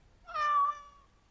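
A cat meows once in Dragon Age: Origins, a single clear, fairly close mew that swells and then tapers off over about a second, with no talk around it.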